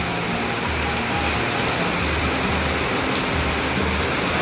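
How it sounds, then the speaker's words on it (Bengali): Steady rain pours under dark clouds at an outdoor work site, a dense even hiss of drops with low rumbling beneath, continuous and fairly loud throughout with no voices. "বৃষ্টি দেখতে পাচ্ছেন, পুরো কালো বাদল ছেয়ে আছে"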